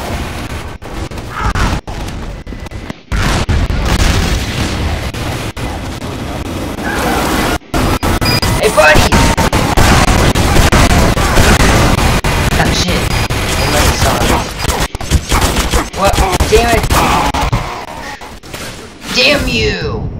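Explosions and gunfire from the video game Team Fortress 2 build into a dense, loud barrage of booms and thuds, broken by brief gaps, with a voice talking over the combat.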